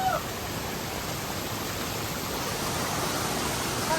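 Hidden waterfall at Anakulam, Munnar, heard as a steady, even rush of falling water that fills the whole clip without pause.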